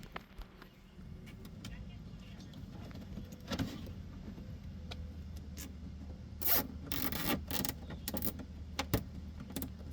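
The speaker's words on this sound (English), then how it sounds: "we're going to use some zip tie to help us out where we don't have any clips" A zip tie ratchets tight in a few quick rasping pulls on a Dodge Journey during battery-area work, with a low engine-like hum running underneath.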